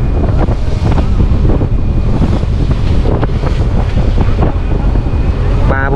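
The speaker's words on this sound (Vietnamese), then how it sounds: "Cái này là gió bất mạnh luôn rồi đó." Strong wind buffets the microphone at sea aboard a fishing boat, with waves and splashing water roaring steadily and loudly throughout, close and continuous.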